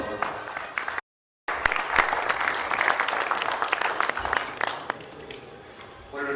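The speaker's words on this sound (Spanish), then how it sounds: "un fuerte aplauso, por favor" An audience at a medical conference session on tendinopathy applauds a speaker, with a steady wash of clapping interrupted by a brief dropout and continuing at moderate level.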